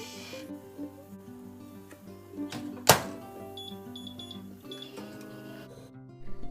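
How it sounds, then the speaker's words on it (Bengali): A microwave oven boils potatoes, with a low steady hum, a sharp loud beep or clunk near the middle and small button beeps, close by, with no talking. "কটা আলু মাইক্রো ওভেনে 6 মিনিটের জন্য সেদ্ধ করতে দিলাম"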